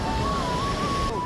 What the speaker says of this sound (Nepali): खोला पनि कति बढ्यो यार होइन छिटो छिटो बढिरहेको छ यो खोला